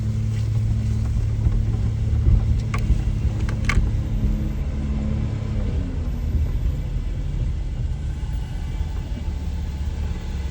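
Car with its windows down driving along a road on the south side of a farm, a steady, loud engine and road rumble with a couple of faint knocks, no talking.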